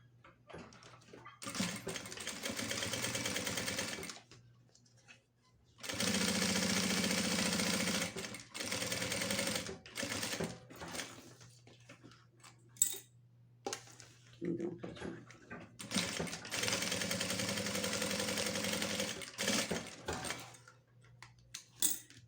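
A sewing machine runs a straight seam through clear crystal plastic and lining fabric, several loud bursts of motor whirring with quiet gaps between them.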